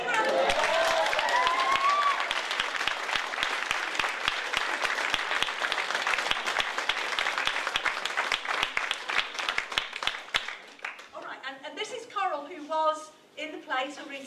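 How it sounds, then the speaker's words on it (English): An audience breaks into loud, sustained applause that carries on for about ten seconds before fading out, followed by a voice speaking. "So, big round of applause."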